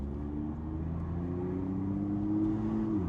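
BMW M2 F87 with N55 engine and decat downpipe fitted, exhaust droning steadily at low revs while driving slowly, a continuous close engine hum with a gentle rise in pitch.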